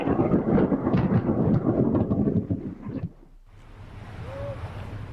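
A lightning strike in the rain brings a loud, close, rolling rumble of thunder that cuts off abruptly, followed by a quieter steady hiss of rainfall.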